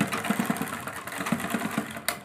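A sewing machine running a straight seam on lace fabric, close up: a quiet, rapid mechanical chatter of stitching in short runs with brief pauses between them.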